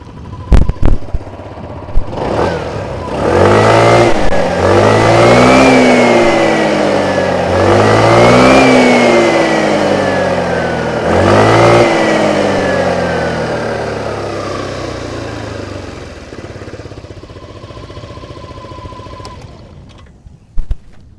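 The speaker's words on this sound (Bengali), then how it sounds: "ইঞ্জিনের সাউন্ডটা একবার বা এক্সস্টের সাউন্ডটা আপনাদের একবার শুনিয়ে দিই" A 2025 Hero Xoom 160cc scooter engine revs up and down three times in a row, the exhaust note rising and falling, close and loud, then settles to a steady idle.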